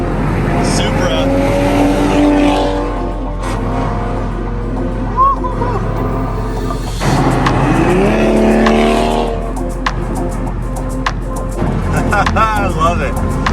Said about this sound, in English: Cruising with this WRX and this Supra.